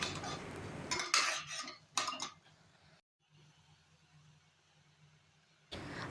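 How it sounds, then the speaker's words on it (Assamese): Baby khichdi ingredients with pink salt are stirred in a pan: a spoon clinks and scrapes loudly for about two seconds, then a faint quiet simmer follows before another clatter of stirring. "আৰু এতিয়া আকৌ এইখিনি ধুনীয়াকৈ 5 মিনিটমান সময় ভাজি ল'ম।"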